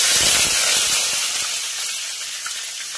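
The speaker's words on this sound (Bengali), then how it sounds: "তেলটা গরম হয়ে গিয়েছে, আমি 6-7টা শুকনো লঙ্কা আর 6-7টা মতো তেজপাতা দিয়ে দিচ্ছি" Dried red chillies and bay leaves hit hot oil, giving a loud, steady sizzling hiss that crackles with small pops at first and then eases slightly toward the end. No one speaks.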